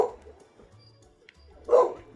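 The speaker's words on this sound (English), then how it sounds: "That is Barco the dog." Barco the dog gives a couple of short barks, one near the start and a louder one near the end, with quiet pauses in between.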